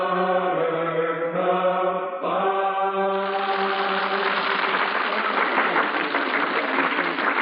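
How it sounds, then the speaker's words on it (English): Audience applause in a radio drama about Gilbert and Sullivan's music, a steady dense wash of clapping that rises and swells over a sustained orchestral chord, loud and continuous throughout. "Listen to that applause."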